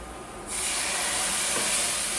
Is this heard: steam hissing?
yes